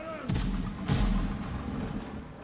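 Deep booming cannon blasts from a pirate ship in the video game Windrose, two heavy low thuds about half a second apart followed by a rumbling tail.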